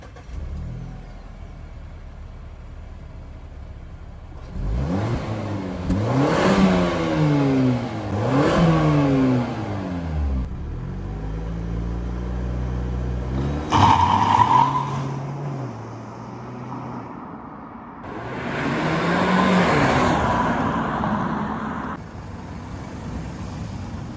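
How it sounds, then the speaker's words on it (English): A 2021 Mazda 3 Turbo AWD hatchback revs its exhaust in several rising and falling sweeps, then pulls away hard in a loud acceleration run, with engine pitch climbing through the gears and a brief tire squeal, and no talking. "we're gonna get some exhaust clips right now, and then maybe a little bit of a acceleration test"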